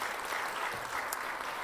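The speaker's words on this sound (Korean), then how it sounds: "우리 함께 박수 드리겠습니다" A congregation applauds during a Wednesday prayer service at a church, a steady, even wash of clapping that is fairly faint and a little distant, heard alone without talking.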